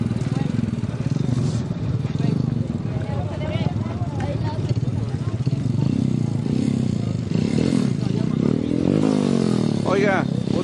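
A motorcycle engine roars at an official street drag race on Ruta Nacional 40, a steady loud rumble with a rising rev near the end, heard under continuous nearby talk and crowd chatter.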